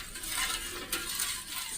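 A pudding mixture thickened with cornstarch is stirred in a pot on the stove, giving a steady scraping, swishing sound with a few light knocks, close and moderately quiet with no voices.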